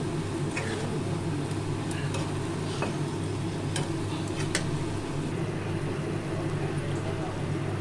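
A steady sizzle of jute leaves frying with onion and garlic runs throughout, with occasional scraping and light taps of a spatula against the pan.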